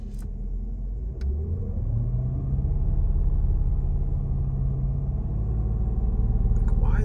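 A loud Mercedes-Benz CLS 550 AMG V8 idles with a deep, steady rumble that swells slightly as it settles, droning continuously and close throughout with no talk over it.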